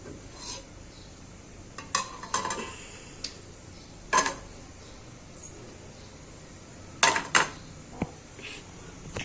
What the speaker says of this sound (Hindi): यहाँ पे मैं साथ के साथ बर्तन भी धोती जा रही हूँ